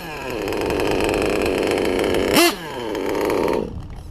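A small nitro RC car engine idling close by with a loud, buzzy, steady drone. It gives a brief sharp blip partway through, then settles and cuts off near the end.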